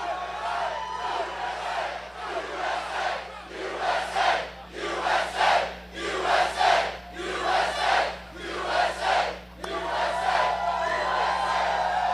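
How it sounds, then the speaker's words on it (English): A large crowd of about 20,000 roars and cheers at a Trump campaign rally in Gastonia, North Carolina, in rhythmic rising and falling surges like a chant, loud and sustained throughout with no speech over it. "This is a big crowd."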